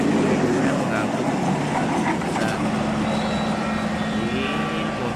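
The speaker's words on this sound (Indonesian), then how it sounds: "kita mulai menyalakan kereta yang di atas" A toy train runs along its plastic track, giving a steady, loud motorized whir and rattling clatter that continues throughout, heard close with a constant rumble and a few clicks.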